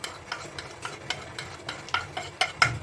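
Kashmiri red chili powder and a home spice masala stirred and frying with tomatoes in a pan for an egg cake curry, giving a steady low sizzle broken by repeated scraping strokes of a spoon, close and moderately loud with no talk.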